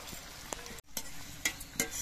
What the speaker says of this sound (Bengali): আস্তে আস্তে জাল দিয়ে বেশ সোনালি রং ধরিয়ে ভেজে নিতে হবে।